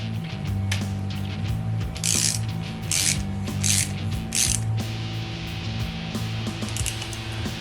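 A small handle is tightened onto bottle opener hardware, producing repeated clicking, ratcheting mechanical sounds in short bursts over a steady background hum, close and fairly loud.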